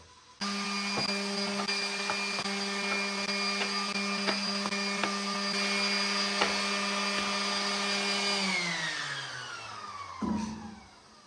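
A power sander sanding wooden bookshelf shelves whines steadily for several seconds, then spins down with a falling pitch, close and fairly loud, with no voices.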